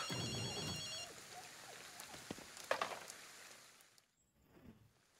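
Phone ringing in the video game Ghostwire: Tokyo, a warbling electronic ring in the opening second, followed by game ambience and soft rain-like noise that fades to near silence.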